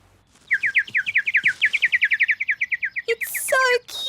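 A cartoon bird sings a fast, regular series of bright chirps close by, about two dozen notes in a row, then ends with a few sharper squeaky calls.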